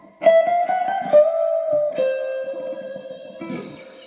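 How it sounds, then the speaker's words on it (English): Electric guitar plays a chromatic lick from a solo, a run of sustained notes with effects and reverb, moving stepwise with a held note in the middle and a flurry at the end. "So the solo starts off with this awesome chromatic lick."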